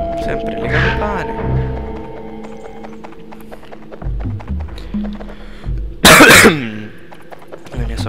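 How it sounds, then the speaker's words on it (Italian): A single sharp cough bursts out near the microphone during play of Oddworld: Abe's Oddysee, after a stretch of quiet, hollow knocks and low murmuring. "La mia solita tosse."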